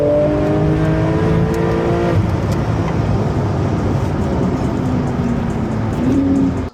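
LaFerrari and a 1500bhp Porsche 992 Turbo S accelerating hard together on the road, a loud continuous engine roar with rising and shifting tones close by, cutting off abruptly at the end.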